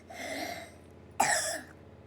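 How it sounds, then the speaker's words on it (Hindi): One abrupt cough bursts out close by after a steady background hum, then fades quickly. "खांसी हो रही है?"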